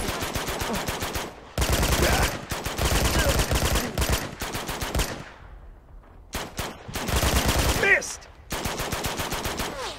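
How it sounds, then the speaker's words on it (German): Gunfire in the action game Uncharted 2 crackles in rapid automatic bursts, loud and dense, broken by short lulls and a few single shots. "Schieß auf das Schloss."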